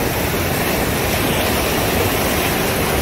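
Steady, dense rush of river water flowing far below in Naran Valley, a continuous broadband roar that stays even and unbroken throughout with no voices over it.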